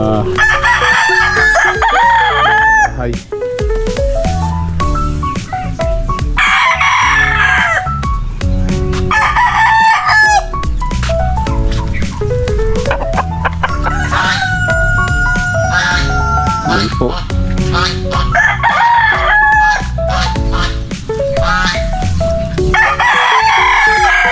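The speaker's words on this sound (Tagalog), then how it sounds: "mga alaga naming ano manok na sabong" Fighting cocks (gamecocks) kept as pets crow over and over, loud and close, with clucking between the calls and a faint voice now and then.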